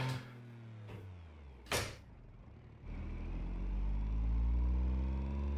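A few clicks and a brief thump come first, then a racing-game car engine played on a direct drive wheel rumbles up and accelerates steadily, its pitch climbing as the revs rise.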